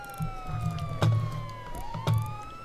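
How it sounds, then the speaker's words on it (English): A wailing police siren in GTA V roleplay sweeps up and down, with a few sharp electronic whoops and clicks over a low engine hum. "Hold on. Siren check."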